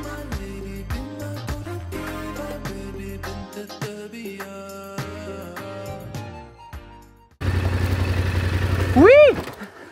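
A motorcycle being ridden on desert tracks between Merzouga and Zagora in Morocco. Its engine cuts in loud and close after a stretch of music, then rises in a strong rev near the end.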